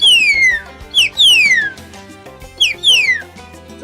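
A man whistles loudly and close by to call pigeons home, in repeated bursts of clear, downward-sliding whistles with short pauses between them.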